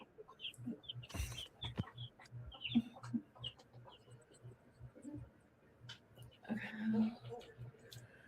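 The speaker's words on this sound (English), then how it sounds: "chickens are going crazy in here." Chickens cluck and squawk in bursts close by, with a few louder agitated calls among a busy, noisy background and some soft human voices.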